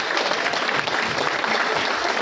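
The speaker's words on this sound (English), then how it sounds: "Let's give them a big round of applause" Audience applause for the founders at a Prife International company event, a loud, continuous round of clapping sustained evenly throughout, with no one speaking over it.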